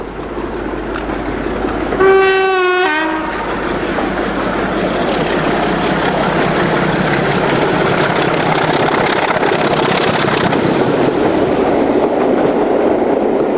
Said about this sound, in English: the Saucer Salute rail tour has reached Blackburn, from whence it departs